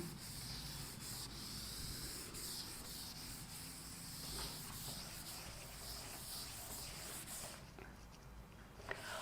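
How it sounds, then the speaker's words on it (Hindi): A classroom board being rubbed clean with an eraser, a steady close scratchy scrubbing that runs almost without pause for several seconds before easing off near the end. "मैं रब कर रहा हूं बोर्ड"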